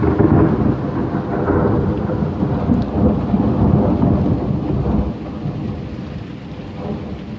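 Heavy thunder rolls and rumbles over steady rainfall during a summer thunderstorm in the mountain town of Crestline, California, loud and sustained, gradually easing toward the end.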